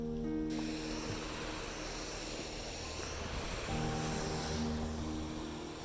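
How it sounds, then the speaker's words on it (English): A waterfall rushes steadily beside a snow-covered trail, a constant broadband roar of falling water that holds at an even level throughout with no talk. "Back to the waterfall again."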